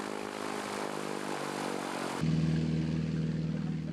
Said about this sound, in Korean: 경비행기가 무동력 비행기를 이끌다 놓으면 상공에서 글라이더처럼 하늘을 누비게 되는 이 모험은 바서 쿠페의 인기 레포츠다